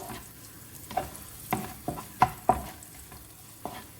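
Coconut pieces frying in a pan for parippu pradhaman: scattered sharp spoon clicks and scrapes over a low, steady sizzle, close by with no voices.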